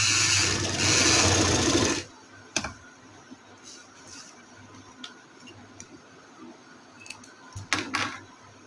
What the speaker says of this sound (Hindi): हम इसे प्रेस करते जाएंगे और सिलाई लगाते जाएंगे।